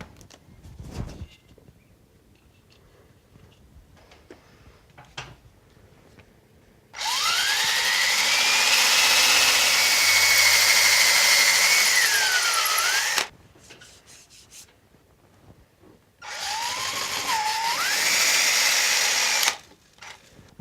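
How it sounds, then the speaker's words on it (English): Power drill boring a pilot hole into a wall, two loud close bursts of whining motor with pitch rising and dipping under load, the first about six seconds long and the second shorter, separated by quiet handling sounds. "it's an idea to drill a pilot hole first"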